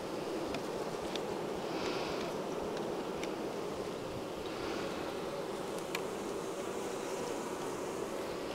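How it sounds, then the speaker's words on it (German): Bees swarm around beehives, a constant dense buzzing that stays steady and fairly loud throughout, with individual insects passing close now and then. "Schwören schon ein paar Bienen hier rum."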